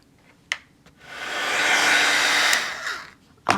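Heat embossing tool blowing hot air during a monochromatic color squares crafting session, a steady whooshing fan-and-heater hiss that swells in for about two seconds and then tapers off, with a couple of sharp clicks at the start and end.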